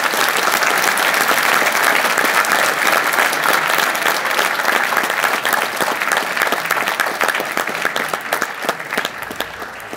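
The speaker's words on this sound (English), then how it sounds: "Let's give them a round of applause." A large audience applauds a university robotics team being brought onstage at a FIRST robotics kickoff event, with dense, steady clapping that stays loud and sustained throughout before easing slightly at the end.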